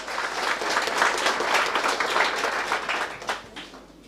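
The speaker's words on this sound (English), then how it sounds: "Please, can we give a round of applause?" Sustained audience applause at a small-business workshop in Hammanskraal, a dense, steady crowd clapping that holds for several seconds and then thins out toward the end.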